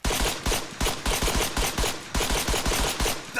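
Automatic weapon fire in the military video game Arma 3: rapid, loud bursts of gunshots in a steady rhythm, briefly pausing once, with no talk.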